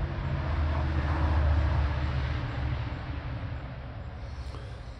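A steady low rumble of a train passing nearby swells and then slowly fades, a broad continuous roar with no voices over it.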